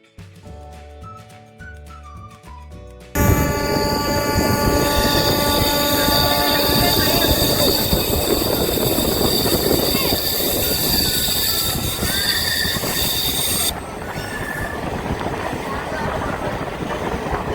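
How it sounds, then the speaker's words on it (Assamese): A train at a railway station rumbles loud and close, with continuous wheel noise and high squeals after a brief quieter opening, steady over a long stretch. "এইখন এখন ট্ৰেইন ৰখি আছে।"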